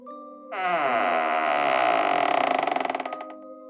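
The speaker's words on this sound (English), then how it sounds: "the basement door creaked open on its own" A basement door creaks slowly open in one long, loud, strained groan that rises and then breaks into rapid stuttering squeaks before fading out, alone in a quiet room.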